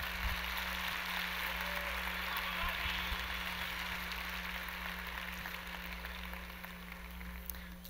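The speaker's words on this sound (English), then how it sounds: "Can we have another round of applause for these folks?" Audience applause at a large conference talk on big ideas: a steady, dense wash of clapping heard from a distance over a low electrical hum, sustained for several seconds.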